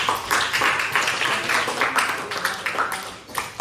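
Classroom applause for a student in an Islamic religious education lesson, a burst of brisk clapping from a small group of pupils, close and uneven, tapering off near the end.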